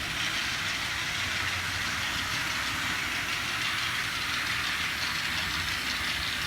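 A model train pulling five cars runs along its track with a steady, even rumble and fine rattle, nearby and fairly quiet, with no voices.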